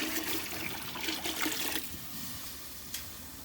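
Water pours and splashes into a pot for tomato rice, a close, gushing stream that tapers into lighter trickling with a small splash at the end, no voices.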